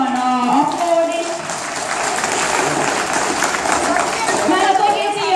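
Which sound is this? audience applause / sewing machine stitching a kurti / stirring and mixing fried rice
audience applause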